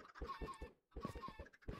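Chickens cluck in short, repeated bursts in a Minecraft Bedrock game, fairly close and clear, with a brief gap in the middle; no talking.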